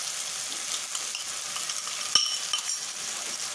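Spices and yogurt sautéing in a pan for a Bengali egg potato curry (dim aloo dum), a steady close sizzle with a sharp utensil clink partway through.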